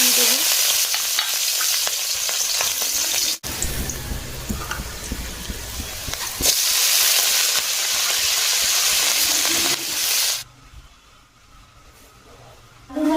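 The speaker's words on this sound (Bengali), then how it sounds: "কড়াই বসিয়ে দিয়েছি অ্যাড করব তেল তেলটা গরম হয়ে গেছে পেঁয়াজ লঙ্কা" Onions and chilies sizzle loudly in hot oil, a steady crackling hiss broken by stirring, dropping quieter toward the end.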